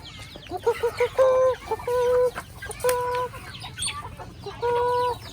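Free-range village chickens cluck and squawk in short, broken bursts as they are coaxed closer to be caught outdoors, a few nearby birds calling over quiet farmyard background.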